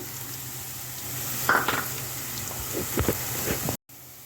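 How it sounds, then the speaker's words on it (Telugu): Hot oil sizzles steadily as cumin seeds crackle and splutter in a few brief bursts, with a faint clink of a utensil near the end. "ఇదిగోండి పోపులు ఎగుతున్నాయి కదా"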